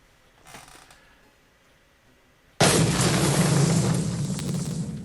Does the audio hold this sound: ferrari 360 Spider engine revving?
no